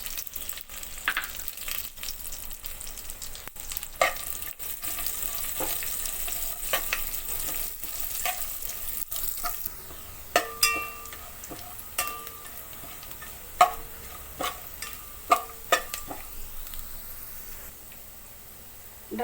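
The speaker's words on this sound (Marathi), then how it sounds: "आता आपण हे ड्रायफ्रूट भाजून घेऊया।" Dry fruits roasted in hot ghee for carrot halwa, a soft constant sizzle with sharp clicks and scrapes of a spoon against the pan, growing more frequent in the second half; no speech.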